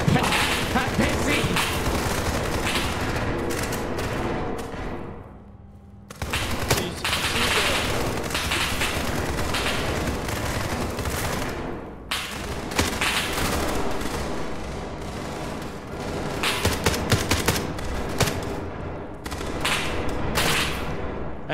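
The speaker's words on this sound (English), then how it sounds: "All I hear is gunfire." Dense, rapid video game gunfire in SCP: 5K rattles almost nonstop in loud bursts, pausing briefly once, with occasional voices under the shooting.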